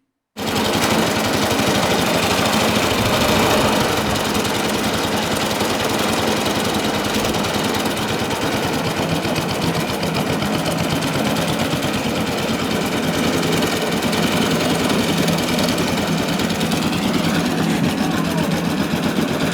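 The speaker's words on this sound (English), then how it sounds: "I've had this old Suffolk lawnmower for many years." An old Suffolk lawnmower's small petrol engine starts up and runs with a steady, rapid, rattling chug, loud and close, holding an even pace for nearly twenty seconds.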